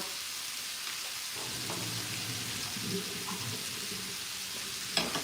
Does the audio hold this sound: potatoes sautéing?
yes